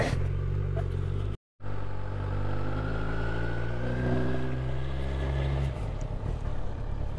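A Kawasaki Z900 superbike rides along a rough, broken road beside a river in Sikkim, its engine giving a steady, loud, continuous drone with road rumble, briefly cut out for a moment before carrying on.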